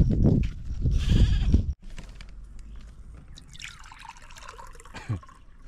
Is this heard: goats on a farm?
yes